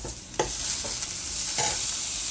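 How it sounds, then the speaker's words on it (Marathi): Onion sizzles in hot oil in a pan as ginger-garlic paste goes in: a steady, loud frying hiss close by, broken by a few scraping stirs, with no voices. "आता त्याच्यामध्ये आलं लसूण पेस्ट घालायचं"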